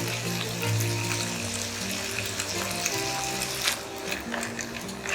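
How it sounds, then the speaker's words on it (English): French beans, baby corn and other vegetables frying in butter in a pan, a steady loud hiss and sizzle filling the whole stretch with a few brief stirring knocks. "We'll just toss these vegetables in the butter"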